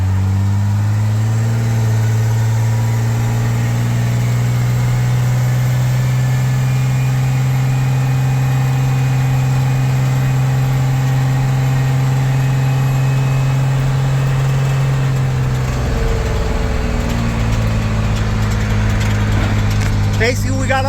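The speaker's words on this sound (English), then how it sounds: "I'm going to turn around and do a pull right up the hill like we did last time" Diesel truck with a Cummins 5.9 12-valve engine pulling uphill in second gear from a stop, a loud, close, sustained engine drone that holds a steady tone, then drops and rises again near the end.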